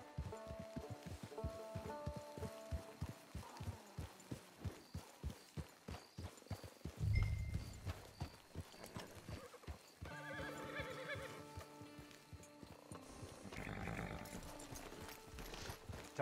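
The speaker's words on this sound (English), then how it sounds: "Hitch your horse." In the Red Dead Online video game, a horse walks with a steady, rhythmic clip-clop of hooves, then gives a short whinny and snorts, all fairly quiet against soft outdoor ambience.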